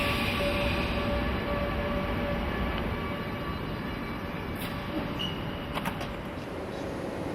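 A train rolls along a railway line, a steady continuous rumble with a faint high whine running throughout and a few brief clanks near the end.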